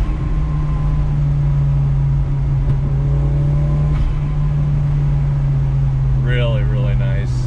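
The engine of a 1994 Toyota Celica GT-Four pulls in third gear, heard from inside the car as a loud, steady drone with a low hum. Rising engine tones appear toward the end.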